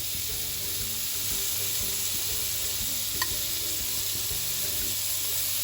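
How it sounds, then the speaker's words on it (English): Frozen doner kebab meat hitting a hot pan on medium heat, a loud continuous sizzle and spatter close up with scraping and stirring noises, and no one talking. "Be careful guys, because it's frozen, it's going to splatter"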